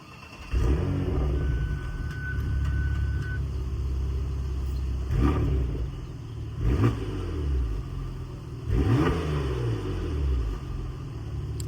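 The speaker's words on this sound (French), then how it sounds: "on va vous faire écouter un petit peu le bruit de ce Porsche Macan Turbo" A Porsche Macan Turbo rated at 440 hp starts in comfort mode with its exhaust valve closed: a starter churn, then a deep, steady idle rumble heard from behind, with several short throttle blips swelling and fading.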